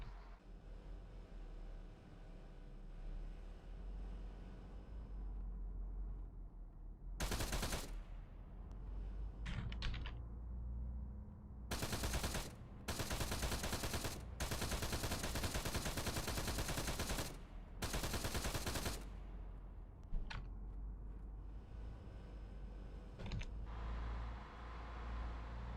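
Turret gunfire in Arma, the combat video game, heard as several long, loud sustained bursts of rapid automatic fire separated by short pauses over a steady background rumble.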